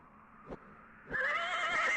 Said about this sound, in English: The bridle over the horse's head. It whinnies its approval.